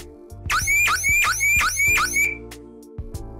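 A loud electronic bilge water alarm siren on a boat wails in five quick rising sweeps, then stops, leaving faint clicks and a low hum.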